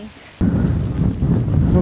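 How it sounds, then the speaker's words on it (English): Rain suddenly starts pouring loudly with a low rumble of thunder on open hillside, a dense steady wash after a quieter start. "Oh, comes the rain."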